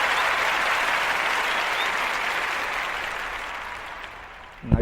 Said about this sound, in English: Hey, round of applause, man.